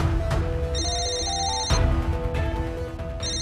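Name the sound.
telephone ringing unanswered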